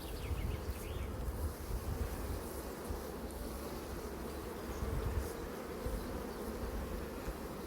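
Honeybees buzz around hive frames during a honey harvest, making a faint, continuous hum with light wind noise in the background.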